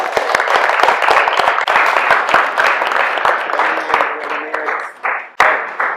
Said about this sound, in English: let's have a round of applause for Jeanette